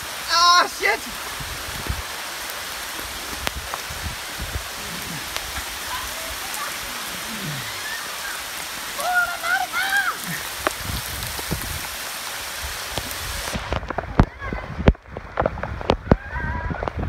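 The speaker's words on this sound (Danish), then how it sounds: "Det regner." A heavy summer cloudburst outdoors, with rain pouring down in a dense, constant hiss and patter on surfaces, while voices speak intermittently over it.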